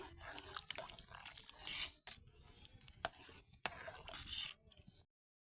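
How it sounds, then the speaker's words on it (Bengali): A spoon scrapes and rubs through thick mashkalai lentil dal in a pot, repeated strokes spread over a few seconds, fairly quiet and close, with no talking. "তো আমি এভাবে একটু পরে পরে নাড়া দিয়ে দিতেছি"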